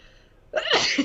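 A single loud, close adult sneeze bursts out abruptly after a quiet stretch, a short sharp explosive blast with a breathy tail.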